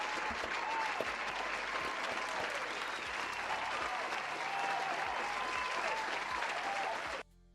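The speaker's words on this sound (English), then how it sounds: "That warrants a clap." Steady, dense applause from many hands at a live stream reaction, loud and continuous for several seconds before cutting off abruptly.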